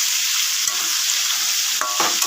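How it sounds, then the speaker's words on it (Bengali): Fish fries in hot oil in a pan with a steady, bright sizzle, while a utensil stirs and scrapes through it in a few brief bursts toward the end. "আর এটা আবার মাছ দিয়ে দিলাম ভাজার জন্য"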